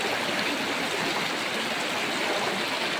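River water flows in a continuous rushing, gurgling wash close by at a steady volume, like a shallow stream with no voices over it.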